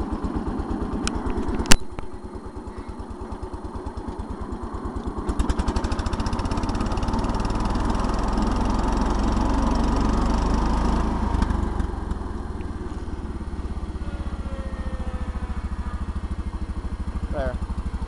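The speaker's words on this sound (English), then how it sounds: "The mower does run on this tractor." A 1971 John Deere 140 H3 riding tractor with its mower deck running: a steady, close engine drone that climbs slightly in pitch as the blades engage and keeps on evenly, with a few clicks and clatters.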